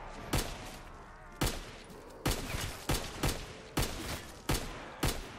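Gunfire in Call of Duty Zombies: eight loud, sharp shots spaced irregularly about half a second to a second apart, each a sudden full-range crack that trails off. No voices are heard.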